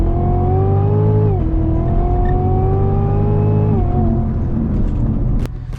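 A Cadillac CTS-V3 fitted with a Corvette Z06 engine pulls hard under acceleration, its loud engine note climbing steadily, dropping sharply at each of two upshifts and climbing again, heard close up from inside the car with no talking.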